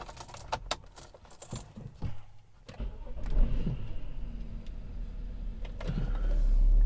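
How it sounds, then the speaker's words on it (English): BMW 535 station wagon with an MHD-flashed tune: keys jangle and clack for a couple of seconds, then the engine catches and settles into a low, steady idle that swells slightly toward the end. "Let me start the car."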